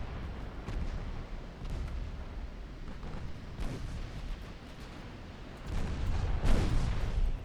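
Warship guns firing in a naval battle in the Ultimate Admiral Dreadnoughts game, a steady rumbling barrage of distant booms with a few louder blasts standing out, heaviest near the end.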